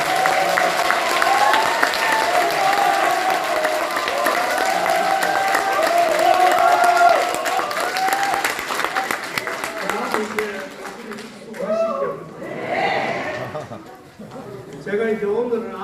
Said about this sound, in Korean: 지금 여러분들이 박수를 치시지만